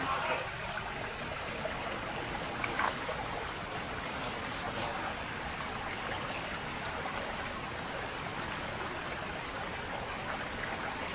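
A river stream flowing steadily, a continuous bright rushing hiss of water with no pauses, moderately loud and close, with no speech.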